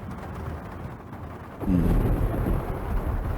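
A sudden deep thunder rumble breaks in partway through, loud and rolling, then lingers as a low murmur.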